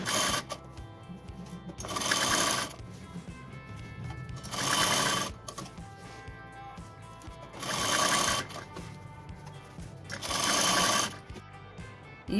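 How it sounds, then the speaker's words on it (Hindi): A sewing machine stitches a strip onto a kurti in four separate bursts of rapid whirring, close and loud, with quiet handling between runs. "हम अब इसकी साइड में यहाँ पर कमीज के ऊपर सिलाई लगाएंगे।"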